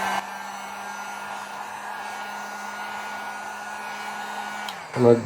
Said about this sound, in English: Now all I'm going to do is just heat it up with a heat gun.